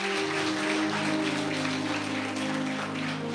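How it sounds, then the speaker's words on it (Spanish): Applause from a church congregation at a Catholic preaching service, a continuous soft patter of many hands clapping beneath held keyboard chords, fairly faint and steady. "Fuerte el aplauso al Señor."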